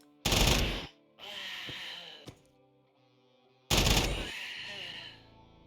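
Turret gunfire in the video game Quasimorph: two loud, close bursts, one at the start and one near the end, with fainter mechanical clatter and thuds between them and no talk.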